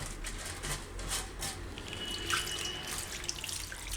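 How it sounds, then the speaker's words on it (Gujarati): Water runs and splashes softly as flattened rice (poha) is washed by hand in a bowl, with quiet sloshing and dripping at a low, steady level and no voices. "તો આ રીતે એમાં પાણી નાખતું જવાનું ને હાથથી ધોતું જવાનું આ રીતે"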